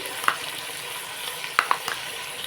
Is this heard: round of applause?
no